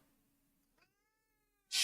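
A pet cat named Gooseberry gives a single short meow partway through in an otherwise quiet room, followed by a sudden loud noise at the very end.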